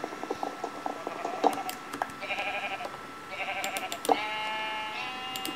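Sheep in the game Minecraft bleat several times in short wavering calls, with small clicking game sounds in between and no voices.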